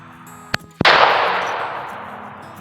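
A rifle shot fired while sighting in a rifle: a faint click, then one loud, sharp report that rings out in a long, slowly fading echo.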